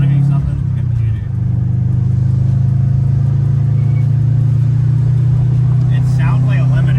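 A Subaru Bugeye WRX with a boost problem is held at full throttle around 4400 rpm, its engine a loud, steady droning hum heard from inside the car, as if stuck in a safe mode.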